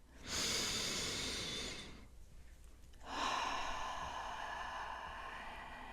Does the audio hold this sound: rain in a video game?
no